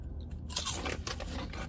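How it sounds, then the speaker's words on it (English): A single loud, close crunch of biting into a potato snack chip, followed by a few crackling chewing crunches, with no talking. "That crunch was perfect."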